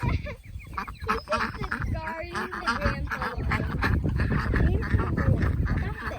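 Ancona ducks on a pond quack and honk in a busy, continuous chorus, with chickens nearby and people talking over the birds throughout.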